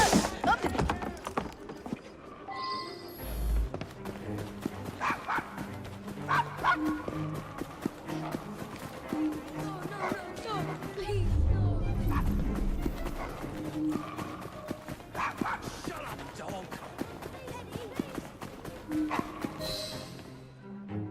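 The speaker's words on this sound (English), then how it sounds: "Nice doggy." A dog in the video game Assassin's Creed Syndicate gives repeated barks and yips, mixed with clip-clopping hooves and busy game sounds, while voices talk at moments.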